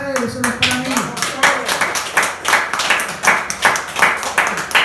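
A church congregation claps in a steady, rhythmic beat, loud and close, while a preacher's voice speaks over the opening moments.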